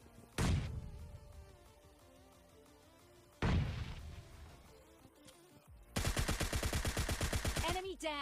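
Grenades thrown inside a house explode in the mobile battle royale game PUBG Mobile Lite: two loud, close booms a few seconds apart, followed by a rapid burst of automatic gunfire, with speech faintly under it.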